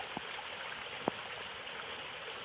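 A good-sized creek runs through the Uwharrie National Forest on the Keyauwee Trail, a steady, faint broadband wash of flowing water with a couple of brief clicks or drips standing out.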